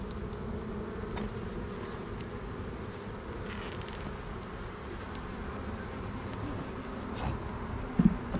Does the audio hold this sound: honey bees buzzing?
yes